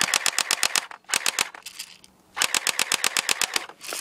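Airsoft P90 firing in rapid automatic bursts of sharp, snappy clicks, three strings of fast shots split by short gaps, fairly close and with no talking.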